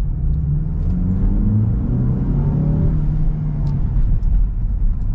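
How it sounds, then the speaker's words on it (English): A Land Rover Defender's turbocharged 2.0-litre four-cylinder engine pulls under full throttle, a loud, close, rising rumble and growl that climbs in pitch over a few seconds with no talk. "Yeah, this sounds good for a 4-cylinder."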